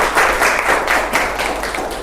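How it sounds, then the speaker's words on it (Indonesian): A lecture class applauds on the teacher's request, a short burst of brisk clapping from a group of students, fairly close and fading slightly toward the end. "Tepuk tangan dulu."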